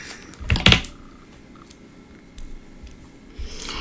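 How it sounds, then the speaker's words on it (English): Scissors snip through tape at a paper-crafting table while a spooky Halloween card background is built with stamps and dies: a quick close pair of cuts near the start, then a quiet room with faint handling sounds. "Need to trim down my tape a little bit."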